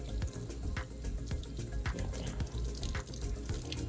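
Running tap water splashes over mushrooms being washed clean in a sink, a steady close hiss with small drips and clatters and no voices.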